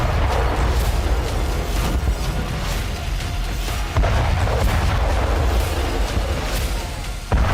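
A TOS-1A multiple rocket launcher firing on positions in Ukraine: loud, continuous rumbling blasts and booms with sharp bursts scattered throughout.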